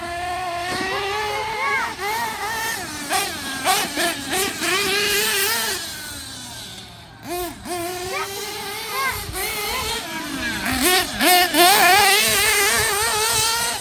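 A small high-revving Novarossi .21 nitro model engine in a truggy buzzes loudly and continuously, pitch rising and falling as it is throttled up and down, with faint voices underneath.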